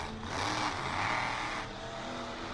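The Tailgater monster truck runs its engine at a monster truck event, a steady, rough roar that swells and fades slightly, heard from a distance at moderate level with no talk over it.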